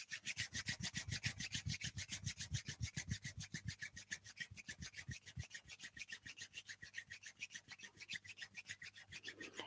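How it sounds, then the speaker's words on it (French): Two hands rub briskly together in a quick, even back-and-forth rhythm, a soft close swishing that repeats steadily with no talk. "je vous invite à frotter vos mains"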